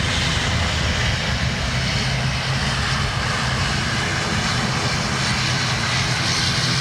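Ryanair airliner taxiing at a windy Dublin Airport, a steady broadband engine roar with wind noise held at constant loudness throughout, no voices.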